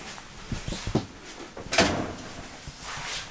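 Large, solid drawers in a 2023 Airstream Flying Cloud 30FB RV slide open and shut in a few quick, close thumps and rolling rumbles, with one firmer knock near the middle and no voices.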